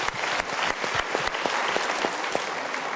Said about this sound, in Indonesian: Kalau gitu kita berikan tepuk tangan dulu untuk mereka.